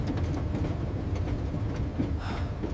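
A prisoner train carrying German POWs rolls along the rails in 1943 Norfolk, a dense, steady rumble of wheels and carriages with faint rhythmic clatter, loud and continuous with no voices.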